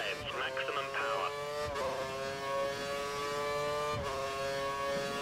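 A Formula 1 engine in the video game F1 2013 screams at full, steady revs at Malaysia, its harmonics holding constant for several seconds with brief dips as gears shift.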